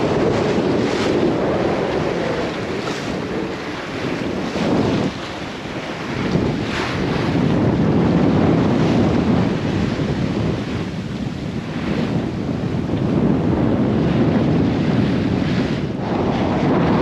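Wind and waves on the open ocean during a sailing passage from American Samoa to Fiji, a constant loud rush of wind buffeting the microphone over surging swells, with no voices.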